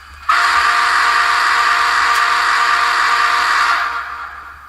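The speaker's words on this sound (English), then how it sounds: "The whistle." Whistle from a Soundtraxx sound decoder in a Kato Union Pacific 844 model steam locomotive, one long loud sustained blast close up that tails off with a faint echo, no talk.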